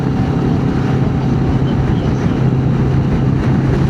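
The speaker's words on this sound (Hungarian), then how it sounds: "Na, ez egy laza szél." Wind blows hard past a roadside pull-off on a Norwegian coastal route, a steady loud rushing roar buffeting the microphone without pause, with a low rumble underneath.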